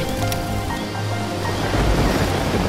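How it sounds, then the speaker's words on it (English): Ocean waves surge and wash continuously around an island in a fairy tale, a dense, rushing roar that swells toward the end with no talk. "There were waves all around"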